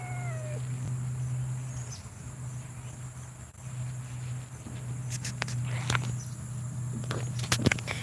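Outdoor cats give a brief meow early on, amid shuffling footsteps, a low steady hum and faint insect chirps in a tranquil natural setting.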